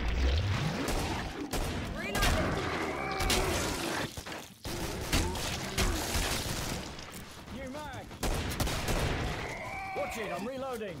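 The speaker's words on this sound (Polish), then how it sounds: "Ja strzeliłem do prawego, ty do lewego jednym strzałem." Gunfire from the shooter game Killing Floor on the Farm map: dense bursts of shots and booming blasts in quick succession, loud and continuous, with game noise running under it.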